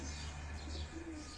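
A pigeon on a Karachi rooftop gives a soft, low coo under steady background noise, faint and short.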